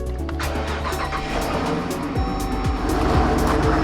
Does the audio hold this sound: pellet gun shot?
no